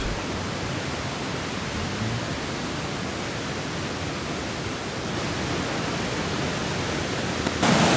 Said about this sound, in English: Cái thác Sao Va đấy, Sao Va của xã Hành Dịch.